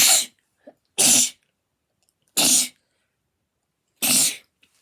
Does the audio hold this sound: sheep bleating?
no